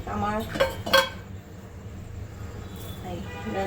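A cooking pot clinks and clanks as rice is set to cook in a home kitchen, a few sharp metallic hits in the first second followed by quieter background handling.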